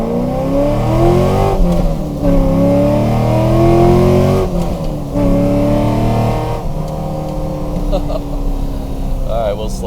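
A C5 Corvette accelerates hard on takeoff, its engine note climbing through several gear shifts with brief dips between pulls, loud and close from inside the car, with occasional talk over it.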